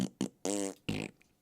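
A voice imitates a fart with the mouth, giving a few short sputtering bursts followed by a longer buzzing raspberry, close and alone.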